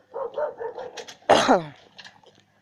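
Several neighborhood dogs bark in short bursts, a run of small yips followed by one loud, close bark, then fainter barking trailing off.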